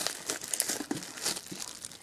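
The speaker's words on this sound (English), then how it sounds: "Taking off all the plastic." Plastic wrapping is peeled off a Gogos tin with close, crackling crinkles and short tearing bursts in an uneven rhythm.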